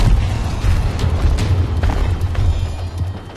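Rumbling booms of a bombardment in the video game Evolve, a steady low roar punctuated by repeated close blasts throughout.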